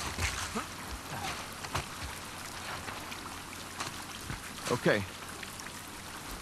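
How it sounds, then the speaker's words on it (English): Steady city rain from The Last of Us Part II hisses as a constant wash with scattered drips and splashes, while a voice speaks briefly over it. "The good thing about this rain, though, is that if you're running away from the WLF, you'll lose scent"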